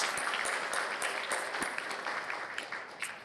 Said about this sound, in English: Can we give them, first of all, a big round of applause?